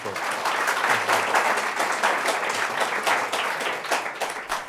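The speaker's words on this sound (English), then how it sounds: "Put your hands together for Jasna Magić from Galop." An audience at an event on advocacy for LGBT survivors of domestic violence gives a guest speaker loud, sustained applause that fills the room throughout.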